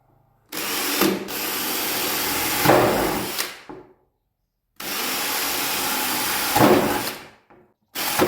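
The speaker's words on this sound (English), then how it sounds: "Gonna get on and drill these out" A power drill drills out holes in the belly pan of a GSX-R750 classic superbike: two loud sustained whirring runs of about three seconds each, pitch dropping as the bit bites, separated by silence.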